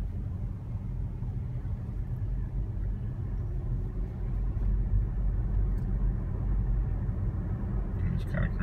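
A Tesla Model S creeping forward on Autopilot in slow traffic gives a low, steady road rumble and muted cabin hum, faint and continuous, with no voice over it.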